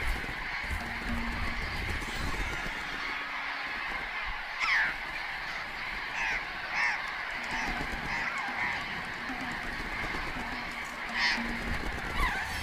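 Patagonian parrots in the Atacama desert give harsh, honking squawks several times at irregular intervals over a noisy outdoor background, some calls louder and closer than others.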